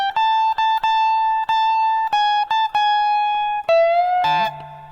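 Sustained clean electric guitar notes from a 5/8/77 solo, some picked in quick succession and some held, ending with a bent note that slides and trails off.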